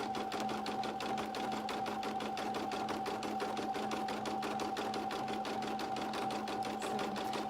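A single-needle sewing machine stitches an appliqué onto a burp cloth with a fast, even mechanical chatter and a steady motor hum, running continuously and close.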